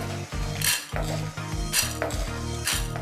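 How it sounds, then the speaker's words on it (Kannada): Roasted chana dal being scraped from a pan onto a plate for chutney, with a metal spoon giving repeated close clinks and scrapes against the cookware in a steady rhythm. "ಸೊ ಈಗ ಇದನ್ನೆಲ್ಲ ಒಂದು ಪ್ಲೇಟಲ್ಲಿ ತೆಗೆದುಕೊಂಡ್ಬಿಡ್ತೇನೆ."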